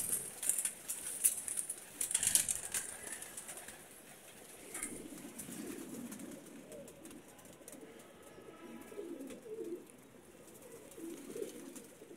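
Several pigeons in a rooftop loft coo in low, rumbling waves over about twelve seconds, with a few wing flaps and faint bird chirps early on, close by and steady, with no talking.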